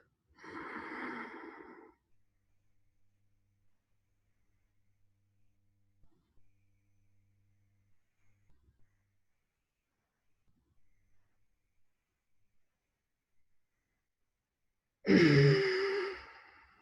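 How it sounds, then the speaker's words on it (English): Deep breathing during tummo meditation: a long audible inhale at the start, about sixteen seconds of near silence, then a strong forceful exhale or sigh at the end, close and alone. "Deep breath."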